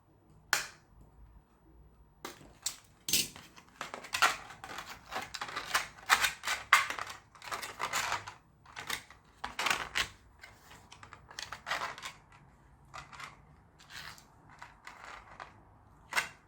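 A six-pint plastic milk bottle is sliced in a quiet room, giving irregular sharp crackles and clicks of thin plastic up close, some in quick clusters.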